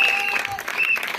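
A church congregation applauds and cheers in a large hall, a short burst of dense clapping with a crowd feel and a voice carrying over it.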